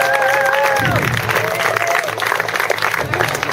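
Crowd applause and cheering fill the space loudly and continuously at an awards ceremony, with a few voices shouting over the steady clapping.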